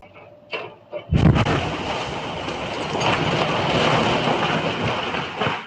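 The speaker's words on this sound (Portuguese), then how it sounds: "um vazamento de gás fez uma casa explodir na Califórnia" A sudden loud gas-leak house explosion in California booms after a brief quiet stretch, caught on a doorbell camera, followed by a long roaring, crackling rumble of debris and fire that keeps going.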